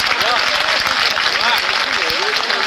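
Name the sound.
audience applause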